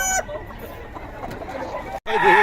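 Chickens and roosters at a poultry market cluck and call close by, with a rooster's crow rising sharply at the end over a busy background of other birds.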